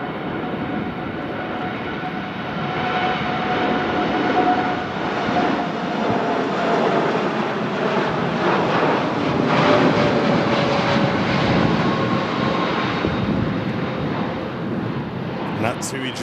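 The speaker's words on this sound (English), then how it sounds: "And that TUI Dreamliner repositioning down to London Gatwick." TUI Boeing Dreamliner taking off from Manchester Airport on a stormy, windy day, bound for London Gatwick: a loud, sustained broadband jet roar with steady whine tones, wind buffeting throughout, and people talking over it.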